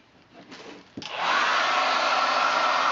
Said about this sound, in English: then you take your hair dryer on high